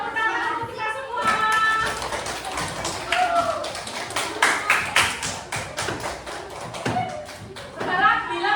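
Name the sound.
classroom applause for everyone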